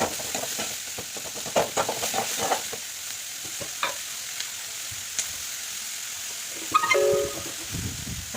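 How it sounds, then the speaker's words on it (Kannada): Onion and green chillies frying in oil for an egg dish, a soft steady sizzle with occasional spatula stirring and clinks, no talking. "ಇವಾಗ ಮೊಟ್ಟೆ ಪಲ್ಯಗೆ ಎಣ್ಣೆ ಹಾಕಿ, ಈರುಳ್ಳಿ, ಹಸಿಮೆಣ್ಸಿನ್ಕಾಯಿ ಎಲ್ಲ ಹಾಕಿ ಚೆನ್ನಾಗಿ ಫ್ರೈ ಮಾಡ್ತೀನಿ."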